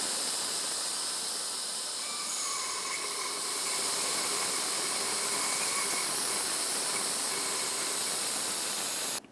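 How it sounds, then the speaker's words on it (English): A fluid extractor pulls brake fluid out of the master cylinder reservoir of a 2015-2019 Subaru Outback, giving a steady loud suction hiss that runs on unbroken for several seconds, then cuts off abruptly at the end. "Now I have this hooked up, I'm going to take my hose and bring it down inside the reservoir here. Let's start removing all of that fluid."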